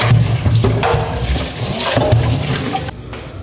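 Tap water gushes into a cooking pot in a home kitchen, a loud close splashing flow that shifts in tone as the pot fills, then briefly cuts off near the end.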